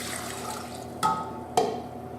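Water is poured into a bowl holding the dough base for Lenten challah bread, a soft steady trickle broken by two sharper splashing bursts, close and moderately loud with no talking.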